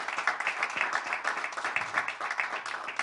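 A crowd at a press conference for a pickleball championship applauds the team, dense steady clapping from many hands filling the room without a break.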